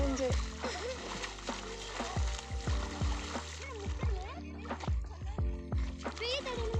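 Children shouting and chattering while water splashes around them, with lively overlapping voices and intermittent splashing throughout.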